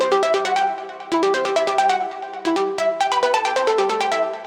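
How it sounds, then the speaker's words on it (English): Punchy synth stabs doubled with a brassy chariot-style horn hammer out a fast repeating figure in a cinematic electronic arrangement, loud and full, with brief breaks between phrases. "So this is like strong stabs layered with a chariot horn, which just really fills it out."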